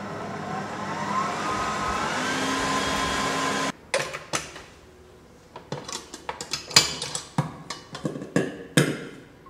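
Stand mixer whips egg yolk pâte à bombe for tiramisu at high speed, a steady loud whir for several seconds that stops abruptly and gives way to scattered sharp clinks and taps.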